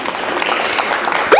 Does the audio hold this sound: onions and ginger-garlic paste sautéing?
no